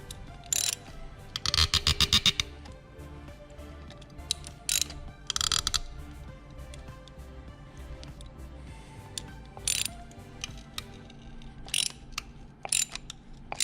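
A wrench works loose an old spark plug on a 2010 Mazda 6 Sport, giving close, loud ratcheting bursts, one long burst and several shorter ones, separated by quieter pauses with no talk.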